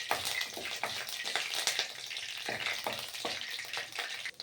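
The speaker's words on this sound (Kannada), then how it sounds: "ಚಟಾಪಟ ಅನ್ನೋದಕ್ಕೆ ಚಟಾಪಟ ಅಂತ ಕರಿಬೇವು ಹಾಕೋಣ. ಹಾಕೊಂಡು ಸ್ವಲ್ಪ ಫ್ರೈ." Curry leaves and cumin sputter in hot oil for shavige bath, a dense crackling sizzle with sharp pops scattered throughout, close and steady.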